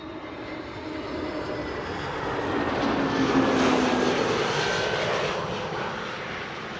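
A KLM passenger airliner arriving at Amsterdam Schiphol Airport roars steadily in the distance, its engine noise swelling as it passes and then easing slightly, with no voices.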